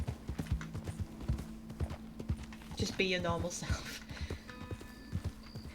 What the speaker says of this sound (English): What if I just gallop and then get off my horse?